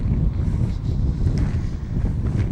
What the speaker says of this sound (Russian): Страшный ветрюга, вообще страшный.